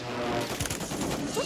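Dense, continuous gunfire in Call of Duty Warzone, loud and close, with rapid overlapping shots and cracks filling the whole moment and no clear pauses.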